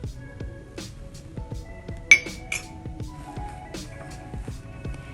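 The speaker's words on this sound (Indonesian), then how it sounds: "Diaduk-aduk." A spoon stirs water and soapy water in a glass during a school fat emulsion test, giving a run of light, rhythmic clinks and taps against the glass, one sharper ring near the middle.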